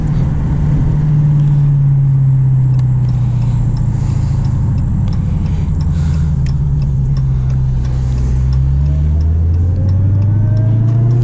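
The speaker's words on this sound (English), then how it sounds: "I love the exhaust." A 2020 Dodge Hellcat Widebody's exhaust drones with a deep, loud rumble while driving, holding steady before the pitch climbs slightly toward the end.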